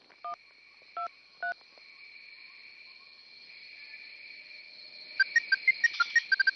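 Mobile phone keypad dialed: three short double-tone key beeps, then a faint tone and a rapid run of dialing beeps near the end, with no voices.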